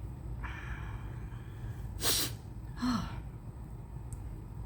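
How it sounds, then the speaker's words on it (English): Two sharp, breathy sniffs sound close by over a quiet background, with a softer intake of breath just before them. "I'm sniffling, don't know why"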